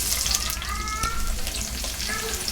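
Thickly sliced onions sizzle steadily in hot oil for radish-leaf stir-fry, a constant close hiss with faint crackles and a few light stirring sounds.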